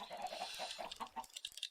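Many chickens cluck in a crowded video game chicken farm holding about 200 birds, a dense, soft chatter of short clucks with a few sharper squawks near the end.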